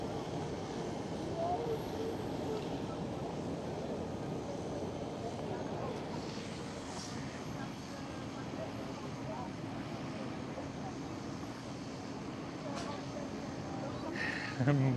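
Jet airliner touching down on runway 27 at Schiphol Airport, a steady broadband engine roar heard from a distance that holds for the whole stretch, with voices talking over it.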